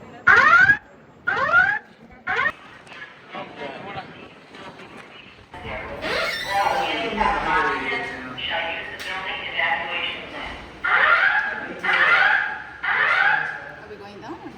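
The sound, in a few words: building fire alarm with evacuation announcement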